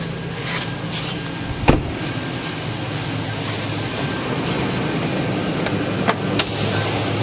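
A 2002 GMC Sierra 1500 Z71 4WD extended-cab pickup's engine idles smoothly under an open hood, a steady even hum with a few faint clicks and no talking.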